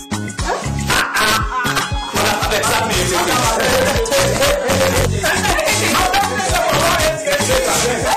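Dog barking and yipping inside a Nigerian MTN recharge radio advert, the woofs mixed under loud music and voices throughout.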